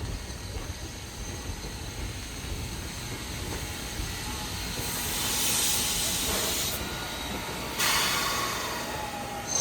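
Steady hiss of steam from a 100-year-old locomotive, swelling into louder bursts of venting partway through, heard from fairly close.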